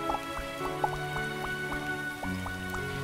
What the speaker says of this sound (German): Es regnet ja jetzt schon wieder.